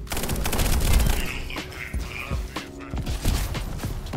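Revolver shots ring out in the Echo Point Nova video game, coming as a few sharp, loud reports amid continuous game action and effects.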